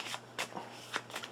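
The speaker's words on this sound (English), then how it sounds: "we're going to shuffle up and draw 14" A deck of cards is shuffled in a few quick, soft riffling bursts, close and quiet, with short pauses between the flicks.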